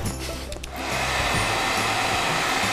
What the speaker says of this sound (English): the force of air coming up from the hairdryer